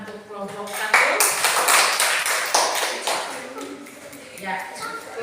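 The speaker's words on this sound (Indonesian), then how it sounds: "baik, kita beri tepuk tangan untuk kelompok 1." A classroom full of students claps for a group presentation, a loud burst of scattered overlapping hand claps that swells and then thins out, with voices talking underneath.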